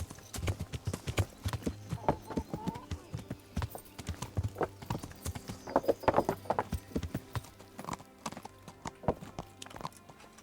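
Horse hooves clip-clop in the medieval role-playing game Kingdom Come: Deliverance, a quick, uneven stream of close hoofbeats with a brief whinny, under soft background sound.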